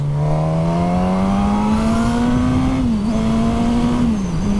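A Suzuki GSX-S straight-four motorcycle engine revs steadily upward in pitch under hard acceleration in second gear, loud and close, with a brief dip at a gear change before climbing again.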